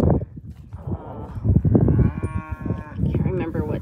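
Cattle moo loudly and close by on a farm, several overlapping lowing calls in a short burst with no talking.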